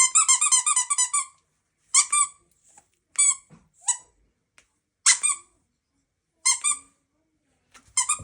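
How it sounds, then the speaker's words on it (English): A squeaky pet toy squeezed in bursts: a rapid run of squeaks at first, then single sharp squeaks spaced a second or so apart, close and clear with no talking. "This one squeaks."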